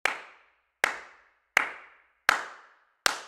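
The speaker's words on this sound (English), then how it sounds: "from a single clapper" Five single claps from one person, sampled for the El Clapo clap plugin, land in an even rhythm with sharp attacks and short tails, close and clean with nothing else around them.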